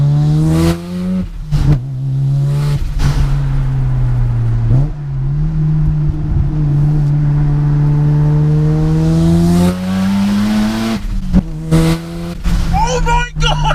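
A 410 BHP wide-arch Mazda RX-7 FD with a big turbo and screamer pipe accelerates hard, its engine note climbing through the gears with shifts in between, loud from inside the car.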